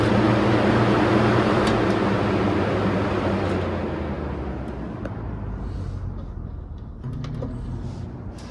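A vintage Hunter box fan running in reverse makes a broad, loud whooshing hum that gradually winds down and softens partway through, leaving a quieter airy rush with faint clicks.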